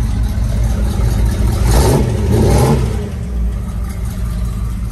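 A 1976 Dodge Power Wagon 4x4 short box pickup with a 360 engine runs steadily near the microphone, a continuous loud low rumble that swells slightly for a moment mid-way without anyone pressing the gas.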